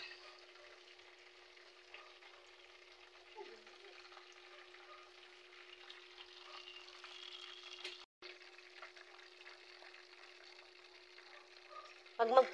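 Chicken frying in a large pot, a steady close sizzle and crackle running throughout with a brief break midway and a louder burst of spattering at the end.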